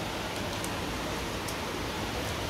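Heavy rain pours down in a steady, dense hiss, with a few faint high ticks of drops striking a surface.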